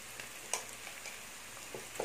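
Brinjal masala ingredients sautéing in a pan with salt, a quiet, steady sizzle broken by a few soft stirring clicks and scrapes, no voices.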